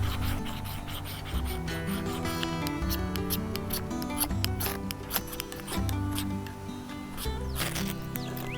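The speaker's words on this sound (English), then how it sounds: "First thing we want to do is scrape off the protective coating off the ferro rod." A tinder scraper rasps the protective coating off a ferro rod in quick repeated strokes, a close gritty scraping rhythm over a low background hum, with no speech.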